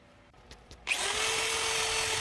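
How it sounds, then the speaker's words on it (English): Wire wheel on a drill scrubbing a Warn 8274 winch part, a steady loud whirring grind that starts abruptly after a few soft knocks and runs continuously to the end. "here's another method of cleaning this off. It's not going to get all of it, but it's just a wire wheel for a drill"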